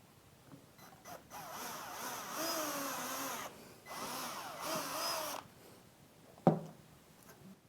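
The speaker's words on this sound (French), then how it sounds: "on va faire le pré-trou pour le crochet qui va servir à accrocher le casque" A power drill bores a pilot hole with a 2.5 mm bit for a hook that will hold a headset, in two steady, moderately quiet whirring bursts of a few seconds each, followed by a brief sharp knock.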